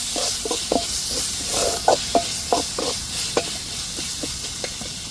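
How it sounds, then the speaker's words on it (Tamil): Ginger and garlic sauté with onions in a hot pan, a steady sizzle broken by repeated scrapes and clinks of stirring, close and without talk. "சேர்த்து நல்லா வெங்காயத்தோடு வதக்கி விட்டுக்கிடுவோம்."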